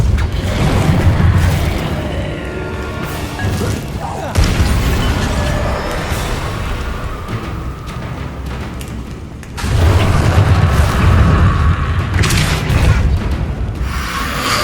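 Confringo and Repulsor spell blasts in the video game Hogwarts Legacy, heavy booming impacts arriving in a few loud bursts with rumbling decay between them, with a voice speaking briefly over the action.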